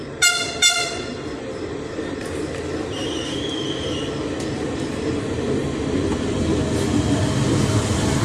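A TCDD train horn sounds two short blasts at the start at Selçuk, Turkey, then the rumble and clatter of railcars rolls on steadily and loud.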